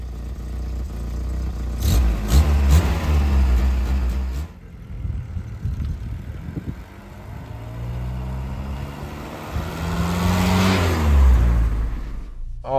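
A VW Golf Mk2 hatchback's petrol engine revs and pulls hard on a test drive, loud and close, with rising and falling gear sweeps, a brief lull near the middle, then another strong acceleration run.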